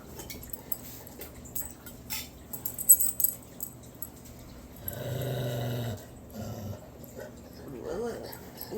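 A dog makes low, rumbling growl-like purrs in a few soft bursts, close by and fairly quiet, with people talking affectionately around it.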